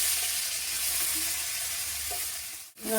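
Eggplant and potato pieces fry in the same oil just used for small fish, giving a steady, close sizzle that carries evenly throughout and breaks off briefly near the end.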